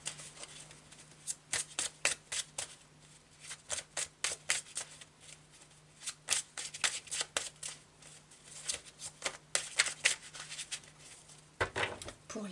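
Tarot de Marseille cards are shuffled by hand at close range. Crisp riffling bursts and card slaps repeat steadily in irregular clusters over a faint low hum.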